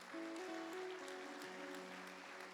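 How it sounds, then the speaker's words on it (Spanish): A church congregation applauds steadily throughout, a dense wash of clapping beneath sustained, held keyboard tones that shift pitch. "Dele un aplauso al Señor por esto."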